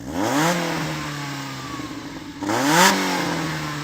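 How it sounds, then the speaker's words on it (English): A BMW M3 engine revs twice, each burst climbing sharply in pitch and then falling back to a steady idle, close and loud. "we're going to rev up these cars' engines and see what they sound like"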